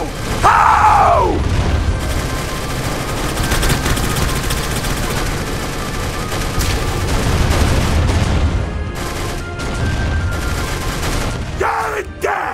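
Rapid bursts of video-game gunfire fill the Arsenal boss fight, a dense, loud clatter of shots and booms running continuously with mechanical clanks underneath and no gaps.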